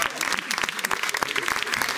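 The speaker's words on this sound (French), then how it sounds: "On peut applaudir." A studio audience claps at a variety show. The applause is quick and lively, with distinct hand-claps at close range, and a voice can be heard faintly beneath it.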